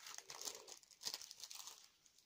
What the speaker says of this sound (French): Je vais le déballer déjà.